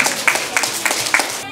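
Applause from children and organizers at a mental arithmetic olympiad after a correct answer is announced, a short burst of clapping with a few sharper claps standing out, voices mixed in.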